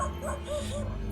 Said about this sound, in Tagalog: May aso dun oh.